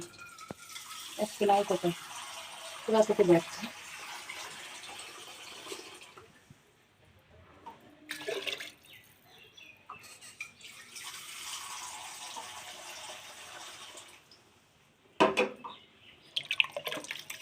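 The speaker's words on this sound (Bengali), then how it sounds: "প্রয়োজন মতো পানি দিয়ে দিলাম" Water is poured into a pot of khichuri in uneven bursts of splashing and trickling, separated by quieter gaps, with a few sharper drips near the end.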